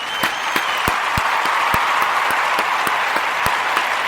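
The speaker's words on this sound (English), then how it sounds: "Give me a hand clap." Hand claps from a small audience in a casual talk setting: crisp, evenly spaced claps in a steady rhythm over a constant background hiss, with no voices.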